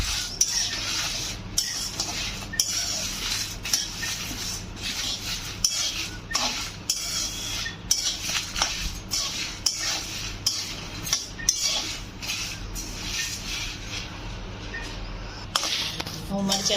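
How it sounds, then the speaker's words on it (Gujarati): Dry red chillies stirred and roasted in a metal pan for sambhar masala, a spoon scraping and clinking steadily against the pan throughout, close and fairly loud. "હવે એમાં મરચાં નાખી દઈશું."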